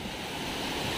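Bangka Bangka Falls in Pagbilao, Quezon pours with a steady, dense rushing roar that stays even throughout, with no voices.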